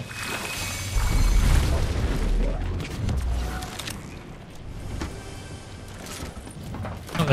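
A deep booming explosion from a boom bolt in Fortnite hits about a second in, rumbling heavily for a couple of seconds before giving way to scattered crackles and clatter.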